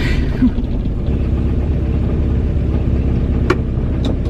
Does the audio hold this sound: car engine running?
yes